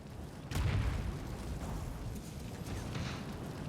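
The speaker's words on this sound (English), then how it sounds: "Other Blood Grenade coming out for the Veno." A Blood Grenade bursts during a Dota 2 pro match, a dull low boom at onset that lingers as a rumbling wash with scattered crackles beneath a busy game mix.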